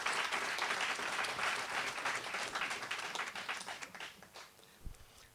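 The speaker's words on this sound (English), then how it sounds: "So can we give the Deekes guests tonight in the showroom in Prince Albert a warm round of applause" Guests in a showroom at a sports awards evening in Prince Albert give a warm round of applause, a dense, sustained wash of many hands that thins out toward the end.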